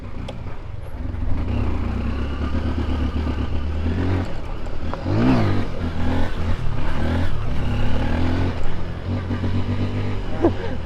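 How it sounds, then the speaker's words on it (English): A motorcycle engine revs hard during a wheelie, rising and falling throttle bursts over steady road noise. Outdoor background sound is mixed in. "I had to pull a little wheelie for them."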